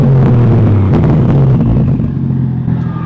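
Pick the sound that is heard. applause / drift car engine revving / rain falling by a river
drift car engine revving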